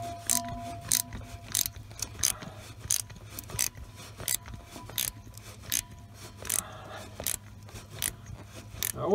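Socket wrench tightening a temperature sensor, a quick ratcheting click repeated in short bursts at an irregular pace, close and fairly quiet, with no talking.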